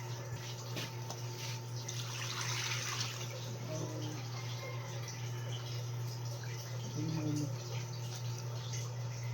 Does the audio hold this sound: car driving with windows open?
no